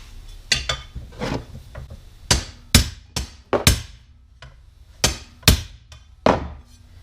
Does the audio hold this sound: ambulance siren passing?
no